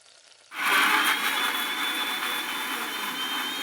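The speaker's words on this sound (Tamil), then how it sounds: "மிக்சி ஜாரில் வந்து ஒரு பேஸ்ட்டாக அரைச்சி எடுத்துக்கலாம்" A kitchen mixer grinder starts abruptly and runs with a steady high whine, grinding sautéed tomatoes into paste for a brinjal kara puli kuzhambu; the loud motor drone continues alone.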